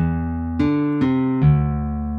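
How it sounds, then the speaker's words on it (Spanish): A sampled guitar in FL Studio Mobile's DirectWave plays three successive plucked notes, each a bright attack ringing into a sustained tone, clean and close with no voices. "es el sonido de una guitarra"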